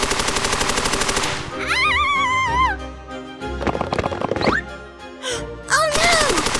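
Cartoon gunfire from a robot shooting everywhere at animals, rapid machine-gun bursts mixed with whistling, zapping cartoon effects and brief squeals, loud and busy throughout.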